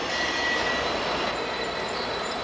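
Steady broadband rumble of a Norfolk Southern freight train on the Pittsburgh Line entering Enola yard from the west end, a continuous rolling wheel-and-car drone at moderate distance with faint high squeal tones.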